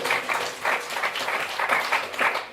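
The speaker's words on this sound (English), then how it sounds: "Give them a round of applause for the work that they're doing in the world." A crowd at a Hindu temple jayanti celebration claps steadily in a moderate wave of applause, fairly even and sustained throughout.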